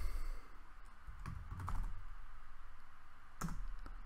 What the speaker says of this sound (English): first thing, we type sudo apt